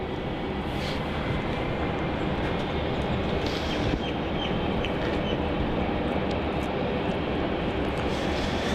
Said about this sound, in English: It's the Qantas 737-800 popping in on runway 16.